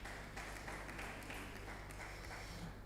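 An audience at a university medicine symposium applauds, a faint, distant patter of clapping over a steady low hum in the hall.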